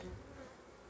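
Honey bees from an urban association's colonies buzz in a dense, steady drone at a beehive, close and continuous with no voices.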